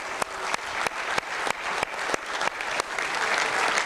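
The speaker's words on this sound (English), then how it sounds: "I hope everyone will now join me in a round of applause to show our appreciation." Conference audience at a bar association congress gives a sustained round of applause, dense even clapping across the hall, with a sharp regular click or knock recurring about every third of a second over it.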